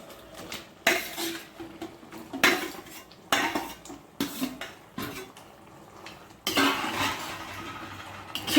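Turmeric-washed chicken pieces tipped into a pan of softened tomatoes for pepper chicken masala, then stirred with a metal spoon, giving repeated clattering scrapes and clinks against the pan in uneven bursts, close and fairly loud, with no talking.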